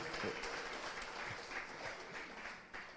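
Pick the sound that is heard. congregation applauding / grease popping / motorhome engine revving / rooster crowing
congregation applauding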